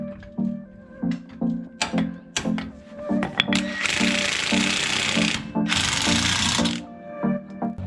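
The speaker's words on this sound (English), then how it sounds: "We're gonna jack up the axle so we can slide our bolt through there, tighten it down, and tighten the upper bolt as well" Mechanical work on a lifted axle during a full suspension lift kit install: sharp metallic clanks and taps from tools on the shock bolts, with two sustained loud grinding or hissing bursts in the middle, close and without speech.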